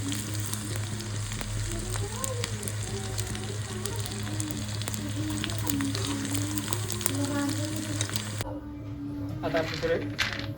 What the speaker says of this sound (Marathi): हे डिंक आपण आता तळून घ्यायला लागलो तुपामध्ये